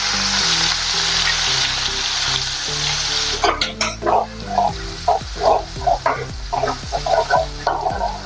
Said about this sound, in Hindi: इसको थोड़ा कलर आने तक भूनेंगे।